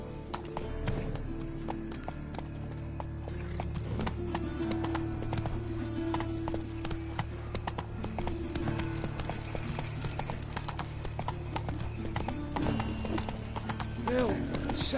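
The horse Roach gallops in the video game The Witcher 3, its hooves giving a fast, continuous clip-clop rhythm under game sounds and someone talking over it.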